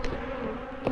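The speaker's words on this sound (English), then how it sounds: "Go away now, bees, I'm getting in the truck." Bees buzz close around a person at an apiary, a steady droning hum with a louder pass near the end.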